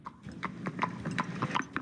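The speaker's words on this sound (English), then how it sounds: "an Amish man was part of a slow-speed chase involving his horse and buggy" Rhythmic clip-clop of horse hooves pulling an Amish buggy on pavement during a slow police chase, steady and fairly close, with voices talking over it.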